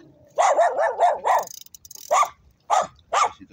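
Several small dogs bark at close range during a cold-day fishing outing on an island: a rapid burst of five yapping barks, a short pause, then three more spaced barks, loud and with no talk over them.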